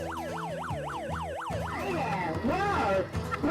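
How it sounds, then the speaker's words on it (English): A toy siren wails in rapid up-and-down sweeps, about seven cycles, then shifts to a warbling two-tone pattern, loud and close. "Or you can pull it down to activate the siren."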